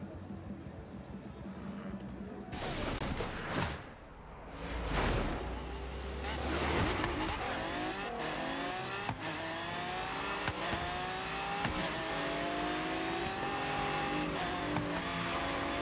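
A car engine in the racing video game Forza Horizon 3 revs and roars steadily with shifting pitch and brief tire noise, loud and close, while players chat faintly underneath.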